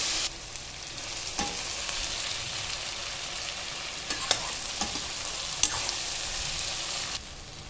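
Cashews and groundnuts fry in oil for tamarind rice, giving an even, hissing sizzle with a few sharp clicks and taps from a spoon, close and continuous, with no talking.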